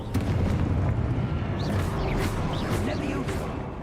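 Confringo fire spell blasts in Hogwarts Legacy, a series of loud booming explosions layered under a voice and game effects, rumbling continuously.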